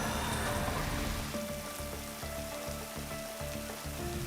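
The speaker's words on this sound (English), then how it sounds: "The rain started really coming down." Heavy rain falls at night in freezing cold, a dense continuous hiss of drops with a faint low rhythmic thumping underneath.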